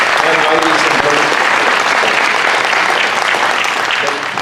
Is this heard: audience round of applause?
yes